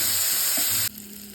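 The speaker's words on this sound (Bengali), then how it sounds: "এগুলোকে এখন আমি ভালোভাবে নেড়ে ভেজে নেব।" Finely chopped onions fry in hot oil in a pan while being stirred: a bright, steady sizzle that runs loud for under a second, then drops abruptly to a quieter background.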